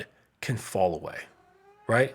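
A cat lets out a couple of short meows in between a person's speech, close and fairly clear.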